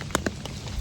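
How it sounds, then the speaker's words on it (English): Steady light rain falling on an evening deer hunt, pattering on an umbrella over a tree stand; a few distinct close drop taps over a soft constant hiss. "It's a pretty steady light rain."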